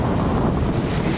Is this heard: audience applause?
no